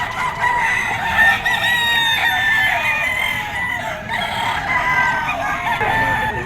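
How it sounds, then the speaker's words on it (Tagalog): Gamecock roosters crowing at a bird market, several overlapping calls loud and continuous with clucking, busy and near throughout. "So tingnan natin mga bloodline at itsura ng mga manok ngayon dito ni Boss Batang mga tol."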